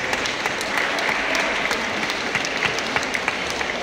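Steady applause from a crowd at a seniors' town dance evening, many hands clapping continuously and fairly loud for about four seconds with no voices.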